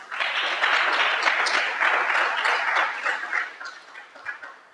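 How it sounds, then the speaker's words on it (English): An audience applauds a guest author joining a panel on a live talk show, a dense, steady clapping that fades and thins toward the end. "I want you guys to give her a round of applause, please."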